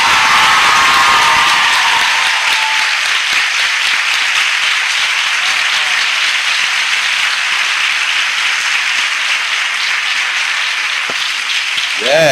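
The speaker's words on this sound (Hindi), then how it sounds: "ऐसी ताली बजाओ जो इस कलीसिया में आज तक नहीं बजी होगी।" Loud, sustained applause from a church congregation, dense clapping that stays strong throughout and thins slightly toward the end, with scattered cheers and faint voices in the crowd.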